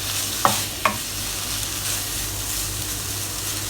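Ingredients stirred in a non-stick pan over steady background sizzle, with two sharp utensil scrapes or taps early on, then continuous low frying hiss.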